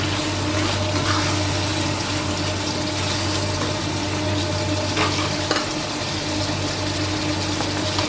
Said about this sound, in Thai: แห้งไปก็เติมน้ำอีกสักนิดก็ได้